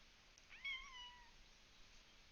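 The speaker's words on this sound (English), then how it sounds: "My cat is wanting my attention." A house cat meowing once, a clear, moderately loud call with a falling pitch, followed by quiet room noise.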